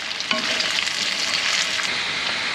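Russet potatoes fry in olive oil for a Spanish tortilla, hissing in a dense, steady sizzle close to the mic, with a few soft stirring scrapes and no talking.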